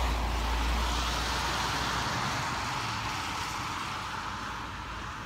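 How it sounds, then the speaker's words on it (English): A car drives by on a road outside, a broad rushing swell of tire and engine noise that is loudest at the start and slowly fades away, with no voices. "there's a car getting ready to pass by right now"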